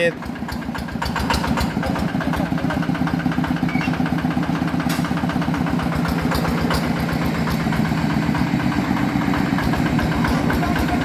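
A farm cart engine idles with a steady, rhythmic low chugging throughout, close by, while a voice speaks over it.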